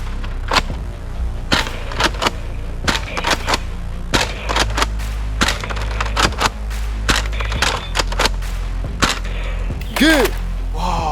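Sharp M16 rifle shots ring out in a video game, arriving as single cracks and short quick bursts with uneven gaps between them, close and loud.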